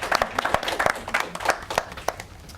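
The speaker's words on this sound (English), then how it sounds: "We can clap him anyway." Audience clapping at a debate on internships, a loose scatter of individual claps forming brief, moderately loud applause with no voices over it.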